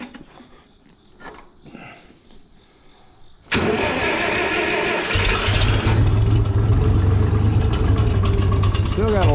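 A 706 tractor engine with carburetor and choke applied cranks and catches abruptly after a quiet stretch, then settles into a loud, rough, steady mid-pitched running rumble that builds slightly stronger toward the end.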